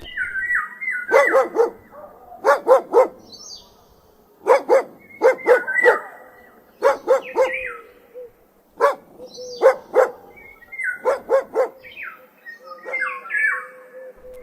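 A dog barks in quick clusters of two to four sharp barks, repeating about every two seconds with short pauses between, loud and close.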